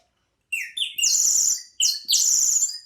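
A bird whistle imitating a nightingale trills and chirps in bright warbling bursts, two main phrases separated by a brief pause, loud and close with no voices.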